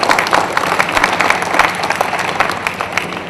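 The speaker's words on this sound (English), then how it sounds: "let's give her some applause" An audience at a British High Commission anniversary launch event applauds, a lively, even spread of many hands clapping close by, sustained throughout with slight swells.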